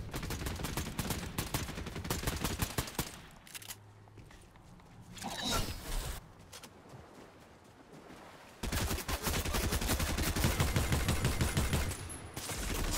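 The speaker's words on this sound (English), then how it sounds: "See, that shooting there is absolutely dire." Rapid bursts of video game gunfire crack loudly and close, with a quieter lull in the middle before a dense, sustained volley resumes.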